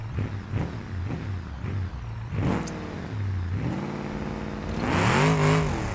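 In a video game, a stock car engine revs in short repeated bursts while struggling to climb a rocky hill tunnel, then pushes into longer rising surges, ending in a higher strained rev. No one speaks.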